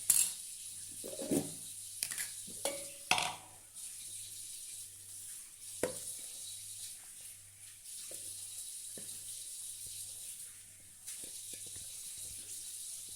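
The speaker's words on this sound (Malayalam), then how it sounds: "നമുക്കിതിനെ ഇനി ഒരു മിക്സിയുടെ ജാറിലേക്ക് ഇട്ട് കൊടുക്കാം" Cut pieces are dropped into a mixer grinder jar in a home kitchen, making a few sharp clinks and clatters up close, followed by quieter handling sounds over a faint steady hum.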